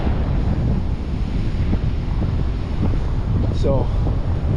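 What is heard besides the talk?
ocean waves and headwind at beach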